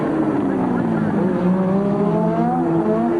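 1983 Formula 1 cars race on a street circuit, with a high, rising and falling engine whine that sweeps up in pitch under continuous commentary talk.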